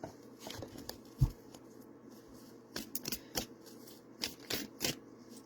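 Cards are pulled from a tarot deck in several soft, scattered flicks and papery slides over a quiet background, with a few sharper snaps as individual cards come free.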